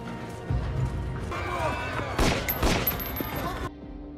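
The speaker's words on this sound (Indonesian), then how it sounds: "Hamdan langsung melepaskan tembakan ke arah Doron setelah dia menyadari sedang dibuntuti." A rapid burst of gunfire in a film scene cracks over a busy, dramatic soundtrack with overlapping voices, loud and close, ending abruptly.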